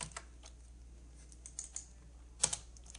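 Keys tap on a computer keyboard while text is entered in an Excel spreadsheet: sparse, quiet clicks in short irregular bursts against near silence.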